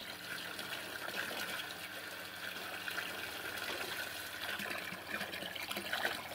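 Water drawn from a rural well, heard as a soft continuous trickling and splashing of liquid, fairly faint and steady throughout with no talk.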